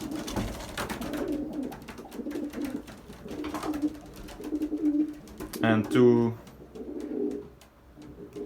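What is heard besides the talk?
racing pigeons cooing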